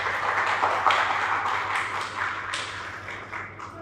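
An audience at a literary conversation event in Dehri applauds to welcome a guest, with a dense patter of clapping at moderate level that tapers off gradually toward the end.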